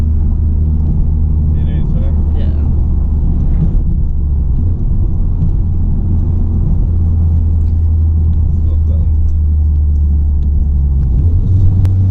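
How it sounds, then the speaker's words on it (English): Deep, steady exhaust rumble from a 2017 Type R cruising on a highway, continuous low drone throughout with a voice talking briefly over it. "Like the exhaust sound."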